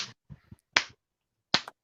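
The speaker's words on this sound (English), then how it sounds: "Unfortunately, I only have a slow clap on the board." Soundboard slow-clap effect: three separate, sharp single claps spaced slowly and evenly, each crisp and close with a short decay into silence between them, preceded by a brief clap at the start.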